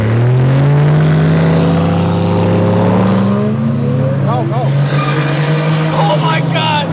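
A diesel truck racing a Toyota Supra twin turbo, engines roaring loud and near with rising revs and a brief chirping squeal, while excited voices shout over the noise.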